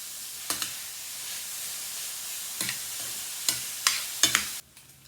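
Bacon pieces dropped in small batches into a hot pan crackle and sizzle, with a steady faint frying hiss broken by several sharp bursts of spitting as new pieces go in, then the sizzle drops away abruptly near the end.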